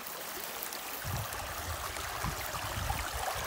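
Cold stream water flowing outdoors, a steady broadband rushing wash with low gurgling that thickens slightly after the first second, with no voices.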